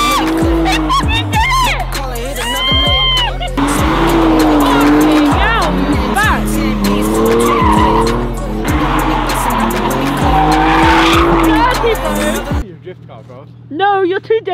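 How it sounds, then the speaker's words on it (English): Drift car at a car meet skidding with long, loud tire squeals over a roaring engine that keeps revving, continuous for about twelve seconds before cutting to a quieter scene. "Oh, you're a drift car."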